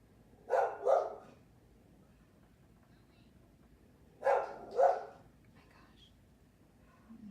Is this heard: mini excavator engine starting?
no